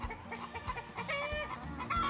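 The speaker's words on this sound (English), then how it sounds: "The hens like to come out and they like to wander as far as they can." Hens clucking close by in a garden, several short overlapping clucks and calls in a steady scatter with no talking.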